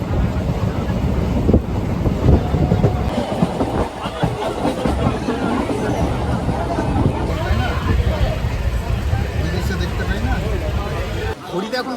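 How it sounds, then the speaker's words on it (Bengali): A train departing Sealdah station rumbles and clatters steadily, with wind buffeting and a low murmur of voices throughout. "ঘড়ির কাটায় সাতটা বিয়াল্লিশ আমাদের ট্রেন ছাড়লো শিয়ালদা স্টেশন"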